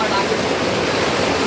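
Rainwater pours heavily and continuously while a goat is bathed outdoors, a loud, dense rushing wash with no breaks across the short stretch.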